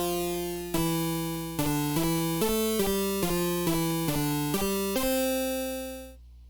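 A noisy square wave synth built with pulse width control plays a short stepwise melody of about eight sustained, buzzy notes, harsh and electronic with bright harmonics, each note starting abruptly before a fading tail.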